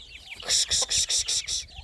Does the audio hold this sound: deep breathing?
no